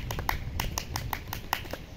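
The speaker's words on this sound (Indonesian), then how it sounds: "Satu kali tepuk pramuka." Children doing a single round of the Scout clap (tepuk pramuka): a quick run of about ten sharp handclaps in a lively rhythm over two seconds, close and fairly clear.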